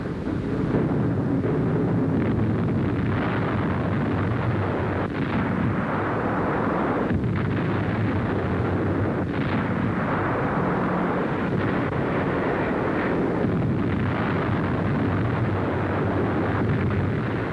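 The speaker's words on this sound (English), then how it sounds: "American bombers, combined with British air forces, are pounding Germany with raids around the clock." A WWII bombing raid on Berlin by American and British bombers, heard as a dense, continuous roar of explosions and heavy engine drone, loud and unbroken throughout with occasional heavier thuds.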